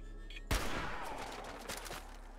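Grenade explosion in the video game Fallout 4: one sudden loud blast followed by a rumbling, crackling tail and a few smaller pops as the noise fades, with no talking.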